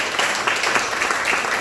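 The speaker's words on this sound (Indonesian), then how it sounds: "Tepuk tangan yang keras." A crowd applauding loudly at a church gathering, a dense continuous wash of clapping that stays full and steady throughout with no pause.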